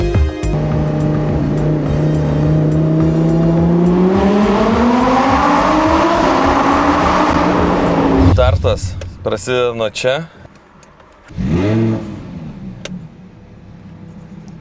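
A 2015 European-spec Lamborghini Huracán with a 670-horsepower V10 pulls away, its engine note rising steadily in pitch for several seconds and loud up close, then breaking into choppy bursts and a second short rise, with a voice speaking over it.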